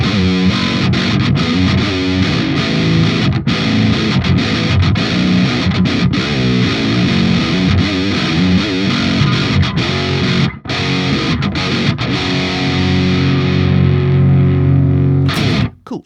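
An electric guitar plays through an ML5 amp model voiced for a Mesa tone, giving a loud, heavily distorted sound with chugging palm-muted riffs and sustained chords, broken by a couple of brief stops.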